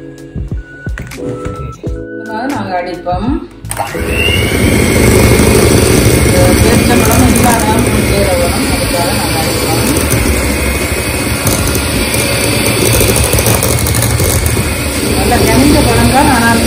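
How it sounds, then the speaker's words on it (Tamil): An electric mixer beats date cake batter with a loud, steady whirring drone that starts abruptly after a few seconds of quieter kitchen sounds and runs continuously to the end, while a person talks faintly underneath. "போட்டு திரும்ப நீங்கள் இதை பீட் பண்ணணும்"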